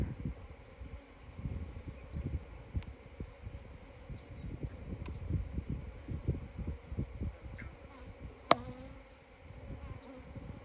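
Honey bees buzz steadily during a hive inspection, a dense close drone near the frames with faint rustling and a single sharp click partway through, no voices.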